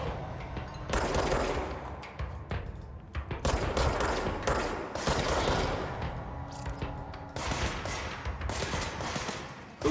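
Rapid bursts of gunfire from the video game Control crackle in dense volleys almost continuously, loud and close, with brief gaps between clusters of automatic shots.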